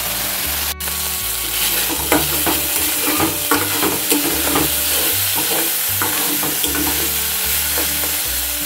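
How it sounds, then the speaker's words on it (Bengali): Potatoes fry hard toward crispness in a pan, a loud close sizzle running throughout, with repeated scraping stirs and occasional knocks against the pan. "আর একটু কড়া করে ভাজবো"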